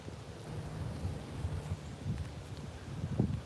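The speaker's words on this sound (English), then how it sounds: "I know it's kind of windy out here." Steady wind rumbles and buffets outdoors, a low blustery roar with occasional stronger gusts hitting the microphone.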